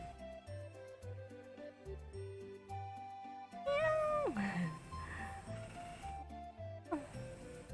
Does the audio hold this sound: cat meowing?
yes